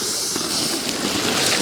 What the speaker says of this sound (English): Continue pouring the boiling water in until everything's submerged.